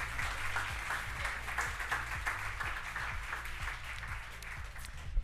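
Applause from an award ceremony audience, steady, moderately distant clapping with a low rhythmic pulse underneath, continuing evenly throughout.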